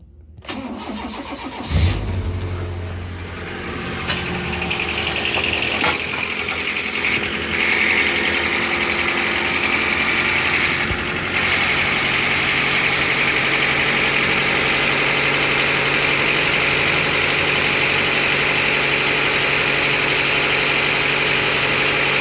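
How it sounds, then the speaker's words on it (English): An engine cold-starts, cranking and catching with a loud burst, then settles into a steady, rumbling idle that continues evenly for a long stretch. "So cold start right now. Turn it on right here."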